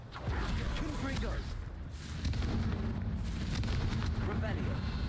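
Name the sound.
Confringo blasting spell explosion from video game Hogwarts Legacy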